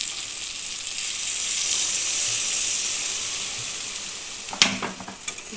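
Pointed gourd, potato and prawn curry sizzling steadily in a pan, a continuous frying hiss that swells, then a sharp burst of clatter and louder spitting near the end as water is added.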